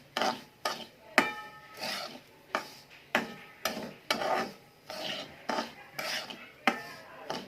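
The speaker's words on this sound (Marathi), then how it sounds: "रवा चांगला लाल भाजून घ्यायचा आहे" Semolina roasting in a pan while being stirred, a quiet, regular scraping of the spoon against the metal, about two strokes per second, with faint sizzle between strokes.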